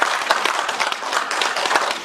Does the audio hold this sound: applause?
yes